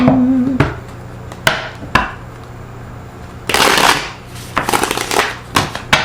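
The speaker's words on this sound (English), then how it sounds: "One more shuffle" Tarot cards being handled up close: sharp taps and knocks against a surface, then a longer papery riffle followed by several quick snaps.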